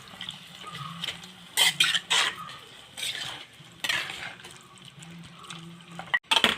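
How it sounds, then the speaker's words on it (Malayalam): Cooked beef and its cooking water are poured into a pan and stirred for a Kerala-style Christmas beef stew, with intermittent spoon scrapes and clatters against the pan over a soft, steady simmer. "ഇതിനകത്തേക്ക് വേവിച്ച് വെച്ചേക്കുന്ന ബീഫ് ആ വെള്ളത്തോടു കൂടി ഞാൻ ഒഴിച്ചു ഇതൊന്ന് ഇളക്കി കൊടുക്കാം"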